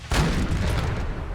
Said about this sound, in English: we got 6 12-pounder cannons ready to